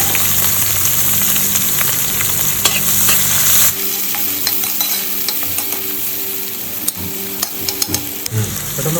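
Sliced onions sizzle loudly in hot coconut oil in a pan, a continuous crackling fry with occasional stirring scrapes and clinks, no voices.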